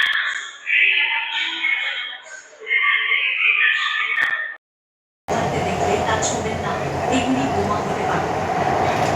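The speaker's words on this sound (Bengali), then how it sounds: "ট্রেনটি এখন গঙ্গার নিচ দিয়ে যাচ্ছে হাওড়া থেকে শিয়ালদার দিকে" Kolkata metro train running under the Ganga from Howrah toward Sealdah. A voice talks at first, then after a brief cut a loud, steady underground rumble fills the cabin.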